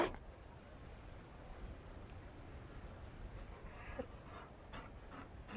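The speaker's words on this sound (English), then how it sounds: "You found a dog?" A dog pants steadily in Dragon Age: Inquisition, a soft rhythmic breathing running close and low under faint ambient game sound, with a few brief brighter noises near the end.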